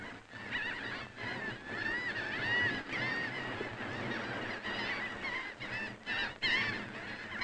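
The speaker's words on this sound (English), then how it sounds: "In spite of the abundance of food around, the birds squabble intensely." Ruddy turnstones squabble in a dense feeding flock on a spring shoreline, making a constant chorus of shrill, overlapping calls and harsh squawks close by, with no pause.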